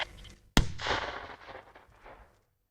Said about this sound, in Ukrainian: Цей вибух робота саперів Криворізького району.